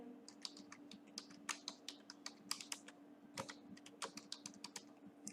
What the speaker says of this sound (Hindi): और फाइल को सेव करने के लिए जैसे फॉर एग्जांपल हम टाइप कर लेते हैं